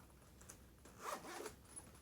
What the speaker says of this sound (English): you flip it and zip it up at the top here.